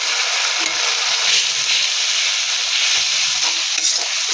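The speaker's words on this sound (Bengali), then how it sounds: "মশলাটা ভালো করে কষিয়ে নেব" Hilsa curry masala of fried onion, turmeric, chili, coriander, salt and a splash of hot water being stir-fried in a pan, giving a steady close sizzle with scraping stirs throughout and no talking.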